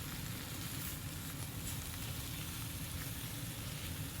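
Chicken wings frying with ginger in a pan give off a loud, dense, unbroken sizzle and crackle, close up and steady throughout, with no voices.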